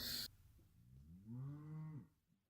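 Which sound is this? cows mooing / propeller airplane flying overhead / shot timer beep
cows mooing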